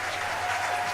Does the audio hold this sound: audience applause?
yes